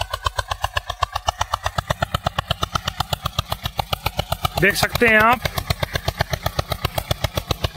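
An Eicher 241 tractor engine chugs steadily with a rapid, even diesel thump, close and continuous, while someone talks briefly over it.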